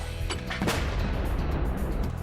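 A heavy, booming blast from a military artillery gun, followed by a sustained low rumble and dense noisy texture with no talking.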